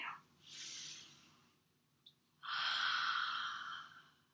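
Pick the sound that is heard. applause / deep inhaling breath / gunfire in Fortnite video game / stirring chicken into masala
deep inhaling breath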